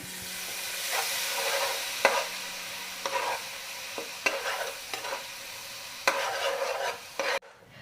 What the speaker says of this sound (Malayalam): ഇനി നമുക്ക് ഇതിലേക്ക് നമ്മൾ പിഴിഞ്ഞു വെച്ചിരിക്കുന്ന വാളംപുളിയും കൂടി ആഡ് ചെയ്ത് കൊടുക്കാം